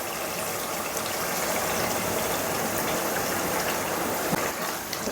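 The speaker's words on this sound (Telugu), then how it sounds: "గోరువెచ్చని పాలు తీసుకున్నాను కదా, ఈ పాలు ఇప్పుడు ఇందులో పోసుకోవాలి." Warm milk poured into bottle gourd curry in a pan gives a steady, broadband rushing gush that holds evenly for several seconds with no speech.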